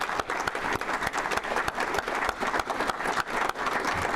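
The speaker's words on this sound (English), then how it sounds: "I think they deserve a round of applause from all of us" A room full of people claps steadily for teachers and staff at a Rotary gathering, a dense, continuous wave of applause with no pauses, close and fairly loud.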